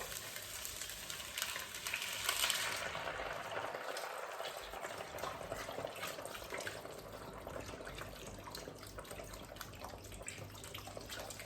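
Stock pours into a pot over vegetables for a lentil and sweet potato stew, a steady faint splashing and trickling close by with no talk.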